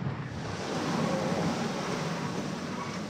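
Steady wind and 4 to 7 foot ocean waves rush and roar continuously while a small sailboat beats across the Gulf Stream in rough conditions, with no voices.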